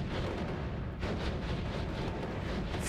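Fireworks going off in the video game Noita, a dense, continuous crackle of overlapping bursts and booms with one sharper pop standing out about a second in.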